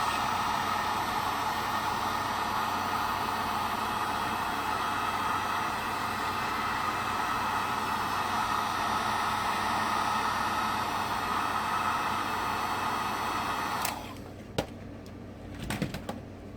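A heat gun blows a steady, loud whooshing hiss while heating the edges of a thermoplastic skull, then switches off near the end, leaving a few light clicks and handling knocks.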